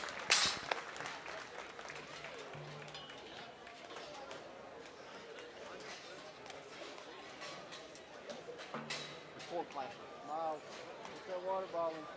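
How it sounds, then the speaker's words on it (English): Applause rises for exhibitors leaving the show ring at a junior gilt pig show, scattered and moderate, with a public-address voice and crowd chatter over it. "give all those exhibitors a big round of applause as they leave the ring"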